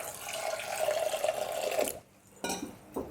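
Water poured from a glass into a pressure cooker holding corn, a steady close trickling stream for about two seconds, then a pause and a couple of short splashes.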